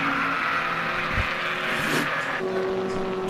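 Race cars sweep past at Silverstone GP during the 750MC Birkett Relay, including a Peugeot 205 and a Mazda Miata, engines droning loudly and continuously with a rising whine as one passes close.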